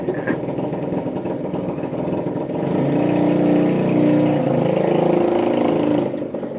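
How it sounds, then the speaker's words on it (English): A motorcycle engine running outside, a steady mid-pitched drone that swells louder partway through and holds, continuous and moderately close, with no talk over it. "I'm hoping it's a motorcycle and not a lawnmower."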